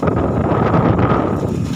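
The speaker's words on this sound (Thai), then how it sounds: "ลมแรงมาก" Strong wind buffeting an outdoor microphone, a loud, steady low rumble with gusty fluctuations throughout.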